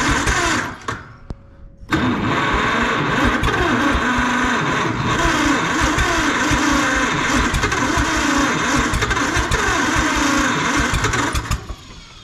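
A John Deere 440C dozer engine fires after a brief sputter and runs loud and rough at full throttle for about ten seconds, a steady close mechanical roar with no talking.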